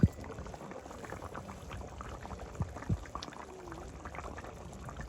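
Hilsa fish pieces go into a bubbling, thin village-style curry with garlic paste and spices, giving a soft simmering burble with a few small splashes and a light clunk near the start.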